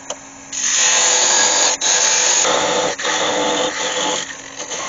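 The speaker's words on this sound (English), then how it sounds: "when I go with my parting off tool, I want to come at an angle like that so that it sits down on right down on that outer rim" A parting-off tool cuts into spinning beech on a wood lathe, a loud continuous scraping whine with two brief dips where the cut pauses.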